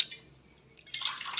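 Coconut water trickling and dripping out of a freshly cracked coconut, a soft wet patter that grows steadier and louder toward the end, close by with no talk.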